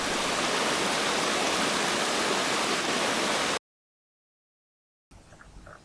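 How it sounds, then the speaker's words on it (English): A shallow mountain brook in the Dolomites' Rosengarten area, just below a small waterfall, rushes loud and close in a dense, steady hiss, then cuts out briefly and comes back fainter. "Standing in the middle of a brook looking down."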